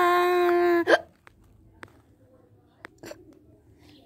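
A single sharp hiccup right after a stretch of sustained voiced sound, followed by a few faint, brief catches in a quiet background.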